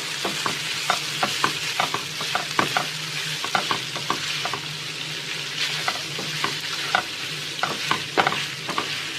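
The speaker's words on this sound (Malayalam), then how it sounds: "ഇനി ഇതിലേക്ക് നമ്മൾ ശരിയാക്കി വെച്ചിരുന്ന സ്പഗേറ്റി ഇട്ട് കൊടുക്കാം. അപ്പോൾ നന്നായിട്ട് ഇളക്കാം." Spaghetti tossed with spicy chicken in a hot pan over a high flame, giving a steady sizzle broken by frequent scraping stir strokes, close and continuous with no talking.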